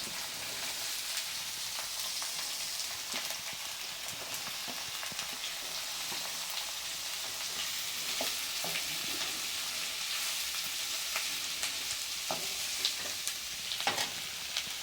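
Finely chopped onions fry in a pan with garlic and curry leaves, giving a constant soft sizzle with occasional stirring clicks and pops. The sound is even, moderately quiet and close, with no voices.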